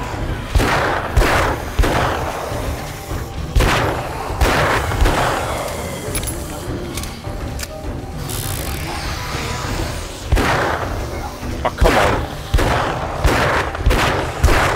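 Repeated gunfire rings out in the survival video game 7 Days to Die, with heavy booming shots in irregular bursts over a continuous background rumble.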